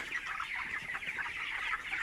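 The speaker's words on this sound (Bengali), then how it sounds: "আজকে 24 দিন এগুলো মুরগির" A flock of 24-day-old broiler chickens, each about 800 to 900 grams, on a poultry farm, making a dense, continuous chorus of clucks and chirps at moderate volume, with no talking.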